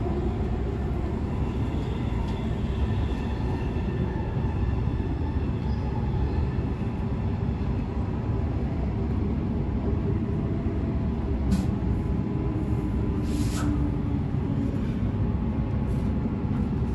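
Transperth B-series electric train pulls into Cockburn Central station, heard from on board as a steady rolling rumble with faint squeals and brief higher tones near the end, moderately loud, without speech.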